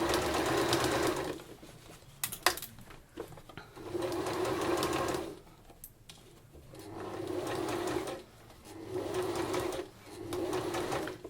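A sewing machine stitches a baby apron in several bursts of steady mechanical whirring, each lasting a couple of seconds, separated by brief pauses and a few clunks.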